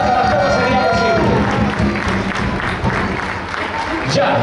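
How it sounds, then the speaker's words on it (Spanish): Applause and scattered cheers from a crowd at a cueca dance championship in Melipilla, loud and sustained, mixed with crowd voices and background noise. "Y también aplauso para las mamás y papás de los integrantes de Español al Viento"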